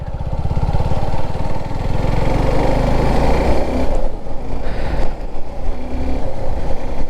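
A motorcycle engine running close by while gears are shifted, a steady loud putter whose pitch rises and drops as revs change, with brief dips around each shift and no talking.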